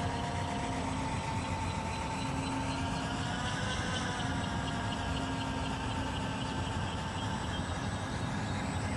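Steady, continuous whirring hum of a Lockheed Martin Samarai monocopter UAV motor running at reduced throttle, loud and unbroken throughout with no voices.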